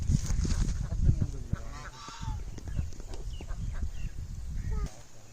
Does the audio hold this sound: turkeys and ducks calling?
yes